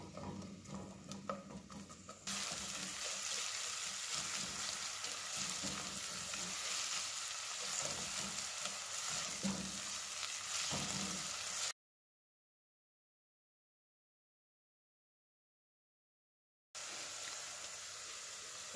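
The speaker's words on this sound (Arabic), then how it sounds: "كنزيدوا عليه البصل، كنخليو البصل كيتشوح في الزيت" Onion sizzles and fries steadily in about a quarter cup of vegetable oil for maqluba, a dense crackling hiss that runs continuously, drops out briefly, then resumes.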